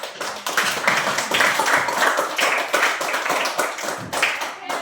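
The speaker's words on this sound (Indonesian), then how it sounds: "sekali lagi kita tepuk tangan buat kelompok 2" Group applause in a classroom or community gathering, a dense crowd of hands clapping steadily and loudly for the whole stretch, close by with no talk over it.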